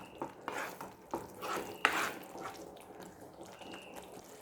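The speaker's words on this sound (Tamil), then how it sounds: "நல்லா கலந்து விடுங்க" Egg gravy being stirred in a pan, quiet scraping and clinking strokes over a soft bubbling sizzle, close and faint.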